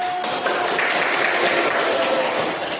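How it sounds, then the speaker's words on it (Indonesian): Children in a classroom clap together in a steady, dense patter of applause that holds at an even level for a few seconds, close and continuous. "Ya, tepuk tangan dulu."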